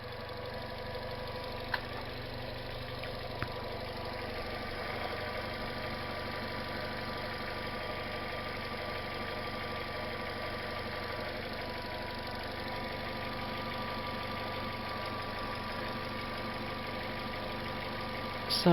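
A 2013 Vauxhall Opel Meriva petrol engine idles steadily after an ignition coil pack and spark plug change, a smooth, even hum with faint mechanical ticking running unbroken, with no talk.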